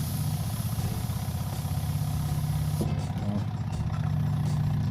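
A motorized pesticide sprayer engine runs at a steady idle-like drone, fairly faint and continuous, with a slight change in tone near the end.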